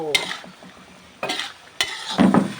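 Chicken and holy basil are stir-fried in a pan, with a few sharp spatula scrapes and clanks against the metal over a soft sizzle, the last stroke the busiest.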